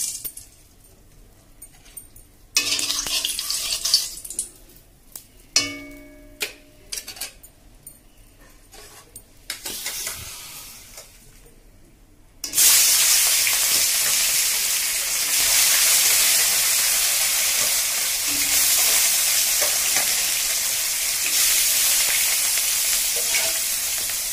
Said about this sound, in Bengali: তেলটা এবার গরম হয়ে গেছে, আমি এবার মাছটা ভেজে নেব